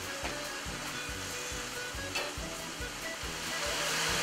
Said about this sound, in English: we are just going to cook that until all of the sake has disappeared